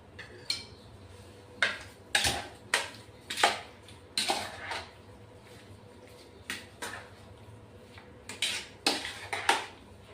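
Prawns being mixed with spices in a pan, heard as a series of close, sharp clinks and scrapes of a utensil against metal coming in irregular bursts, with quiet gaps between, no voices.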